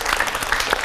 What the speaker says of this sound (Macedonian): Аплауз за сините